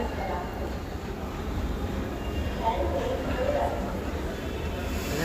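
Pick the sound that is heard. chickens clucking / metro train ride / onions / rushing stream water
metro train ride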